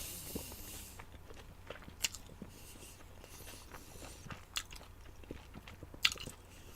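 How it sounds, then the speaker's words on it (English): Someone chews a King Taco carnitas combination burrito with beans, meat and green salsa, close to the mic, giving soft wet mouth sounds with occasional sharp bites and crunches and no talking. "You gotta really chew that meat because you get big chunks in there."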